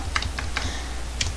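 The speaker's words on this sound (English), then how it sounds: "I still need to use this keyboard." Keys on a computer keyboard tapped in a few quick, close, crisp strokes, with a low steady hum underneath.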